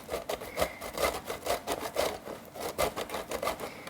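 Food rubbed back and forth on a hand grater for jackfruit fajitas, a steady run of close, scratchy rasping strokes repeating at a quick, even rhythm with no voices over it.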